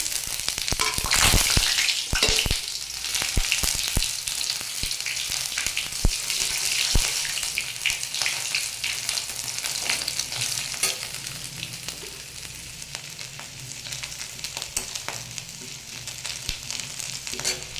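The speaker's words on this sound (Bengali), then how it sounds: "মশলার মধ্যে নিয়েছি পাঁচফোড়ন আদা আর তেজপাতা এটাকে এখন আমি তেলের মধ্যে দিয়ে দেবো" Panch phoron, ginger and bay leaf hit hot oil for a vegetarian banana flower dish, bursting into a loud sizzle that settles into a steady, crackling fry with occasional stirring clinks, and no voices.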